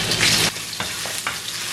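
Crushed ginger and garlic hit hot oil for deviled fish, a loud, bright sizzle bursting for half a second, then settling into a quieter fry punctuated by a few stirring knocks.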